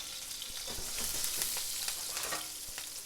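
Chicken thighs fry skin side down in a pan with garlic and thyme, a steady close sizzle with scattered crackles and pops throughout, no voices.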